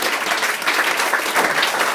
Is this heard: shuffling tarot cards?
no